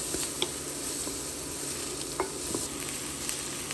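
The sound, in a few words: onion frying with salt and being stirred in a pan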